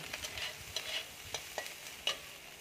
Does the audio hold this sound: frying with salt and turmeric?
yes